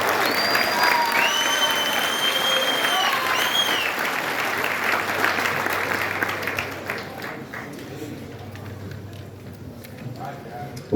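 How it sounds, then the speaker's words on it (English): Sustained applause fills a graduation ceremony hall for an automotive program's graduating students, with scattered whistles and cheers early on, gradually thinning and fading toward the end. "One last final applause for them"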